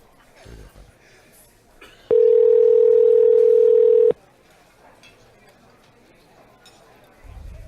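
A phone call rings out unanswered: a loud, steady electronic tone holds for about two seconds between stretches of quiet room noise, with soft rustling and brief sounds around it.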